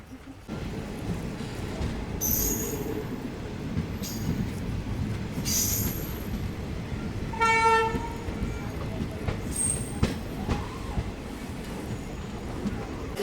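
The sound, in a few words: train arriving at Kurnool City railway station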